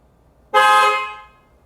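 A Tesla car horn sounds once, triggered remotely from the iPhone app: a single loud, close blast lasting about half a second that fades briefly, heard indoors in a garage with no talk over it.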